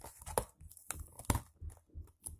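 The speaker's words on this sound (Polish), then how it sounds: "Odklejam tą taśmę." Sticky tape is peeled off an LPS tin in several short, crackling tears and rips, close up, with brief quiet gaps between each pull.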